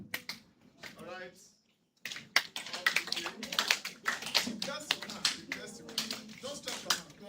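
A group of people claps hands in a rapid, irregular patter of sharp slaps, briefly breaking off before resuming more densely, with speech mixed in.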